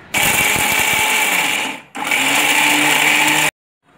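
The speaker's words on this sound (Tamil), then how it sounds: "அதனால் மிக்சியில் போட்டு அரைச்சிக்குவோம் நம்ம." A kitchen mixer grinder whirs through roasted mint chutney ingredients in two loud, close runs, the first nearly two seconds and the second about one and a half, separated by a brief pause and ending abruptly.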